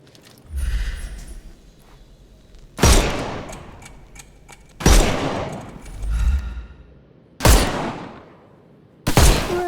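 Gunfire in the game Sherlock Holmes: Chapter One, heard as four loud, sharp blasts spaced about two seconds apart, each trailing off in a short decay over a low background rumble.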